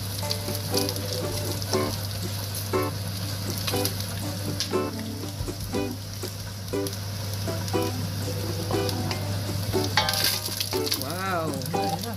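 Garlic sizzles and fries steadily in a hot pan for Filipino papaitan, a dense continuous crackle with occasional stirring scrapes, close and loud throughout.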